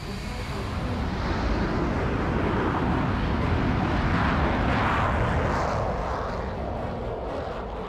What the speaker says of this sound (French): Le Mirage 3 décolle à son tour